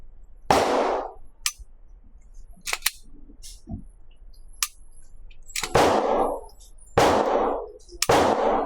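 Pistol shots from a Rock Island Armory Derya DY9, several sharp loud cracks spaced irregularly, some close together, with quieter clicks and handling noises between them.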